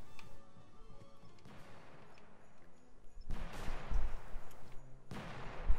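Bomb explosions in a Roblox game hit as a couple of heavy, noisy booming bursts with crashing decay, set against a quiet in-game background, fairly faint overall.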